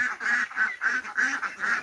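Ducks on a small farm flock of twenty-five quack in a quick series of close, loud, evenly spaced calls with no pauses between them.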